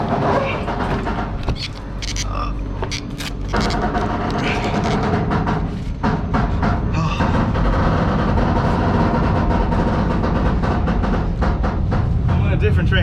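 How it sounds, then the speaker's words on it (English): Steady rumble and clatter of a train rolling along the rails, continuous and loud throughout, with a voice talking over it. "I'm on a different train."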